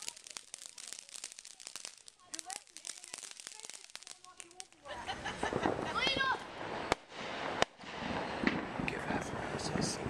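Fourth of July fireworks firing outdoors, a run of sharp crackling bursts and pops that grows denser and louder partway through, with voices talking nearby.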